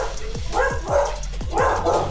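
A dog barks repeatedly nearby in quick, loud, rhythmic bursts, with a couple of pauses between the groups of barks.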